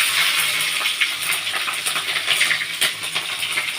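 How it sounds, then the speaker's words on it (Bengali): Green chillies spit and crackle in hot mustard oil in a kadai, a steady bright sizzle with scattered sharp pops, close and fairly loud, no talking. "কাঁচা লঙ্কাগুলো দিয়ে দিচ্ছি"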